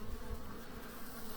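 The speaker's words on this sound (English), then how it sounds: "And then more and more of the bees fly out." Honeybees pour out of a crowded hive in early October while robbing, making a dense, steady insect buzz that hums continuously and close throughout, with no voices.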